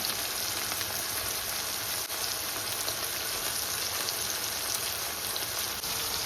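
Curry leaves and dried prawns frying in oil give a steady, even sizzle and crackle with no breaks, fairly close and alone, with no voices.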